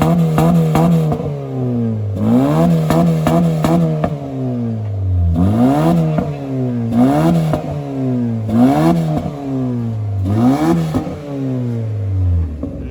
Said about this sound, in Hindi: फिर हमने अपनी गाड़ी को स्ट्रेट पाइप करवा दिया।